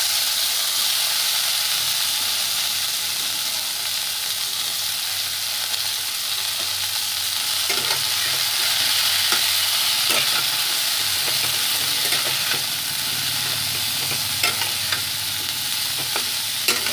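Broccoli florets stir-fry in hot oil for a vegetarian broccoli potato curry, producing a loud, steady hissing sizzle with faint stirring clicks throughout and no talk.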